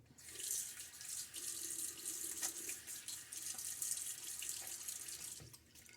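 Tap water runs from a faucet into a sink as a face is wetted before a bowl-lather shave, a soft, continuous stream with slight splashing variations, fairly quiet and close.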